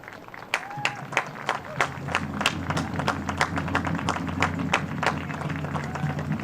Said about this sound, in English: a round of applause from the stands as Samantha Maudsley is up and walking.